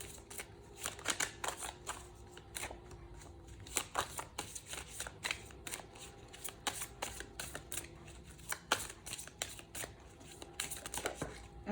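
Tarot cards shuffled by hand, a steady run of crisp riffling and flicking bursts that repeat close and clear for the whole stretch, with no talking.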